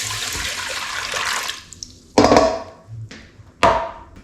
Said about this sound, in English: Then we're going to add 2 cups of water.